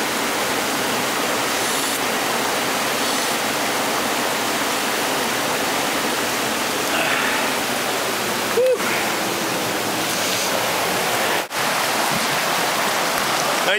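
Steady, full rushing of stream water trickling through rock and dirt, a constant broadband wash close by with no breaks and no voices.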